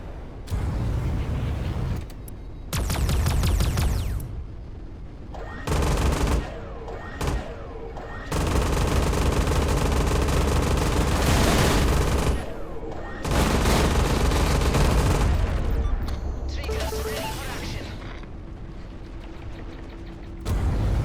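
Spaceship cannon fire in the space combat game EverSpace 2 comes in loud, dense bursts of rapid shots that repeat over the stretch, separated by brief gaps.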